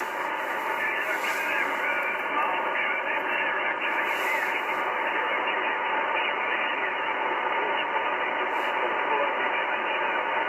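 Steady, dense radio static hisses throughout on a noisy 60-metre amateur band received on an IC-7300 with a 90-foot random wire, a continuous noisy band with faint warbling tones buried in the noise and no clear voice.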